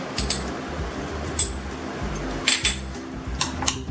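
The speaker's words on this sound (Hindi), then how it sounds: "वो गरम है इसलिए मैं स्पून में उसको स्मैश करता हूँ।" A spoon mashes hot boiled raw banana in a dish, with soft squishing and a few clinks of metal against the plate over a low background hum.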